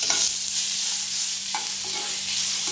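Onion and 15 garlic cloves fry in a pan with a steady, close hiss and sizzle, stirred now and then with faint scrapes.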